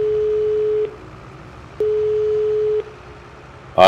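Busy or ringing phone tone in the farming game Farming Simulator 22: two steady beeps, each about a second long, separated by a pause, clear and close with no talk.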